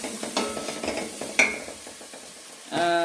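Turmeric stirred into a pot of cooked bananas (matoke), with a close spoon scraping rhythmically through the soft mixture over a light sizzle, ending in a brief louder rasp.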